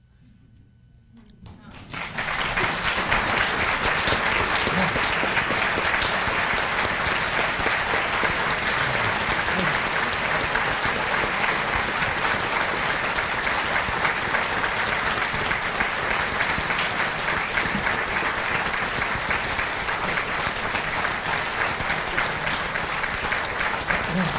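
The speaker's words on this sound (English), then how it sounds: "Senator Douglas, but we also are applauding Jim Getty of Gettysburg, Pennsylvania," An audience at a Lincoln-Douglas debate reenactment breaks into applause after a brief quiet moment, then keeps clapping loudly and evenly for over twenty seconds.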